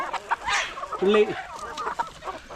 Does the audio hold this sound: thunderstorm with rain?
no